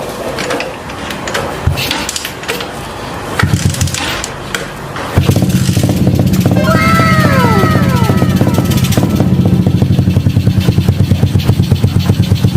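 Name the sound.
motorcycle engine starting and running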